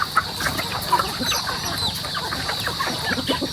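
A flock of chickens clucking busily and continuously, several birds overlapping close by in a noisy, steady chatter.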